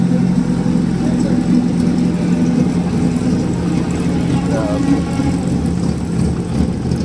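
Loud race car engines idle and rumble continuously nearby at a racetrack, with occasional revs rising over the steady drone.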